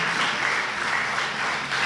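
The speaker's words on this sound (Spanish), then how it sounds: "un aplauso para el hermano Fernando" Church congregation applauding a fellow member, a steady, dense wash of clapping that holds evenly throughout with no voices over it.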